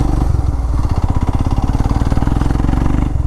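Motorcycle engine climbing a steep hill road on a sunset ride, a close, loud, steady pulsing drone with a rapid chugging rhythm throughout.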